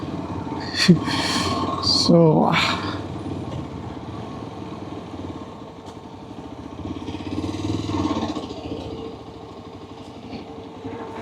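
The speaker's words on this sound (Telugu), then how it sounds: "ఇదిగో బైక్స్ అన్నిటి వస్తున్నాయి." Motorcycles ride past on a highway near Gajuwaka, Visakhapatnam, during a Republic Day group ride, with two louder engine passes early and another fainter swell later, while people talk nearby.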